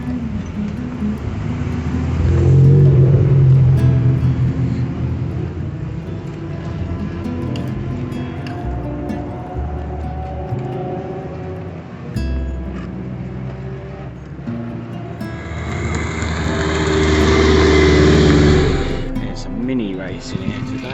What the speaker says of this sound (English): Mini racing here today.